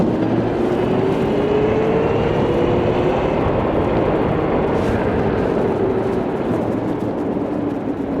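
Go-kart engine droning steadily at night, a loud continuous rumble with a faint rising and falling whine throughout, close and unbroken with no talking.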